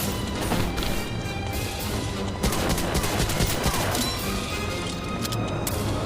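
Continuous rapid gunfire in a video game battle, dense crackling bursts with sharp impacts and crashes over a loud, constant background din.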